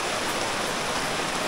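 Steady rain falls over a village river, a dense, even hiss of drops hitting water, continuous and moderately loud with no voices.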